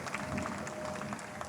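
Applause from an audience of district alumni at a high school district centennial celebration, a brief steady wash of clapping from a crowd at moderate level.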